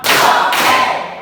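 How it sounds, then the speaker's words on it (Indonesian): Classroom pupils clap together in unison during a rhythm clapping game, pattern two: a dense, loud burst of many hands sustained for about a second before fading. "Tepuk dua."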